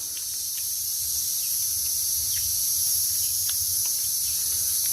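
Grasshoppers chirp in a sacred spring habitat, a dense, continuous high-pitched buzzing trill steady throughout, with faint scattered clicks beneath and no talking.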